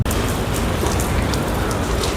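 Steady heavy rain falling on surfaces around a busy bus depot in Panvel during the monsoon, a dense, continuous hiss with no talk.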